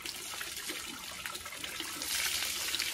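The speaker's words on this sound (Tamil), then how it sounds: "மோதுக்கு தண்ணியை கையால் ஊத்துங்க." Water poured by hand for washing, a steady splashing and trickling stream that grows slightly louder toward the end, with no talking.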